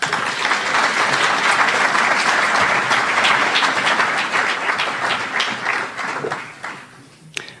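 Audience at a Santa Clara University lecture breaking into sustained applause to welcome a speaker, dense loud clapping that thins out and fades over about seven seconds.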